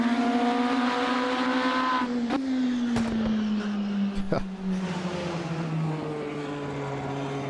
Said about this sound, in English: Backfires out of the car.